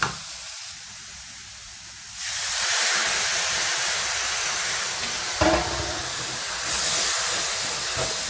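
Vegetarian chili paste being stir-fried over low heat, a steady hiss and sizzle that swells louder after a couple of seconds, with occasional stirring knocks.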